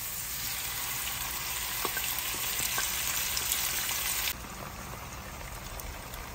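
Mushrooms frying in a pan give a steady, close sizzle with faint crackles and pops throughout, dropping slightly in level partway through, with no talking.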